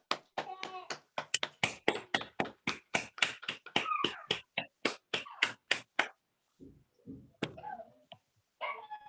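An audience at a morning plan meeting claps in a burst of sharp, evenly spaced hand claps that are loud and close, then tapers off into scattered claps and quiet.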